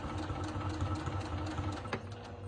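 A sewing machine stitches through a printed vinyl notebook cover, giving a steady, close, rapid whirring chatter that runs the full length without a break.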